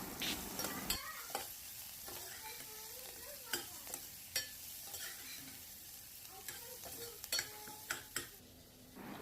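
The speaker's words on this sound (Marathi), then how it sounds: "हिंग आणि कांदा, लसूण आणि आलं हे आता चांगलं परतवून घ्यायचं आहे." Onion, garlic, ginger and asafoetida sauté in a pan with steady sizzling, broken by repeated scrapes and clinks of a spoon stirring against the metal, close and moderately loud with no talking.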